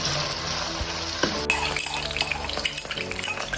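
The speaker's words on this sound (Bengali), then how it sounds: "এখন আমরা আলুটা ভেজে নেব।" Potatoes frying in a pan of oil just after fish, a steady hiss carrying scattered metallic clinks and scrapes of a utensil against the pan.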